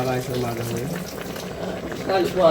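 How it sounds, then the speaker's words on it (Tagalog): Coconut milk with onion and garlic, made from four coconuts for ginataang gabi, bubbles at a steady, busy boil in an uncovered pot, with a voice faintly heard over the simmering. "hindi natin tatakpan yan at hayaan lang natin yan kumulo ng kumulo"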